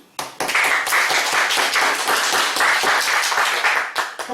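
A church congregation breaks into brisk clapping during a sermon, many hands beating together loudly and evenly for a few seconds before tapering off.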